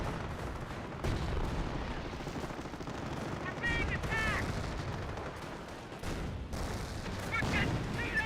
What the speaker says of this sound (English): Mortar at close range firing away